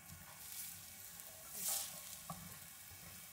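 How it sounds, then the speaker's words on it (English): Chopped onion fries gently in olive oil in a pan on low heat, a soft steady sizzle with a brief louder hiss and faint stirring clicks, no voices. "we're just gonna cook the onion really low and slow"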